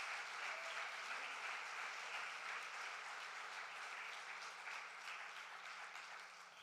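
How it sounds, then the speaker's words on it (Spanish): Steady applause from a church congregation, dense and continuous, heard from some distance and fading slightly at the end. "Dele palmas al Señor, alabe al Señor"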